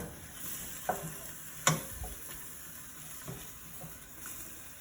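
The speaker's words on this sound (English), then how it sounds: "So we let that cook for a couple of minutes, stirring it around to keep it moving." Chow mein noodles sizzling in a frying pan over medium-high heat, a quiet steady fry with a few sharp scrapes and clacks of stirring spaced through it.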